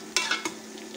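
Garlic, ginger and onion fry in a pan for a village-style chicken pota kaleji masala, a steady soft sizzle broken by a few scraping stirs near the start, with no talking.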